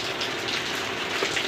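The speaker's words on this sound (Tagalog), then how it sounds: "Umuulan dito guys." Steady rainfall makes a dense, even hiss of drops on surfaces, moderately loud and continuous with no voices.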